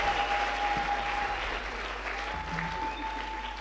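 A church congregation claps together in sustained, even applause praising the Lord, a dense wash of many hands filling the room with no pauses.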